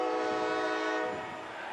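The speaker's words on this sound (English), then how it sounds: "Big part of the atmosphere here is the train." A passing train sounds its horn beside a soccer stadium at Keyworth during a Detroit City FC match: a loud, sustained, close blast that tapers slightly toward the end.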